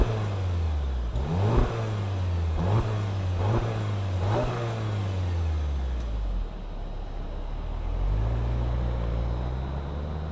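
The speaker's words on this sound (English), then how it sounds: "let's fire up the Jetta GLI and hear what kind of sound it makes." A 2024 Volkswagen Jetta GLI's turbocharged engine blips through three quick rising revs close by, then settles back to a steady idle before swelling again slightly.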